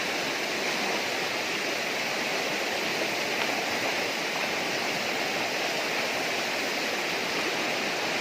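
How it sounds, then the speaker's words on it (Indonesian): A river rushes and roars in a continuous, dense broadband wash that is loud and close and holds constant throughout, with no voices or breaks. "Masih ada lagi, guys, satu sungai yang lebih besar lagi."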